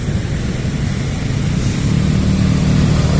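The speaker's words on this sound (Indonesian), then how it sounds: "Ada motor pula tiba-tiba." Motor vehicle engine noise on a Jakarta street at night, a steady loud rumble that swells slightly toward the end as a motorcycle passes close by, with no talk.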